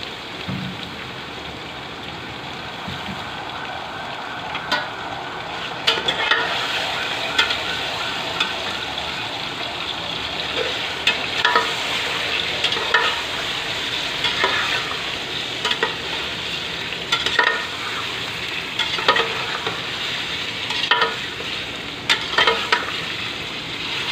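Chicken frying with garlic paste in a pan, a continuous soft sizzle with intermittent scraping stirs and clinks of the utensil, no talking.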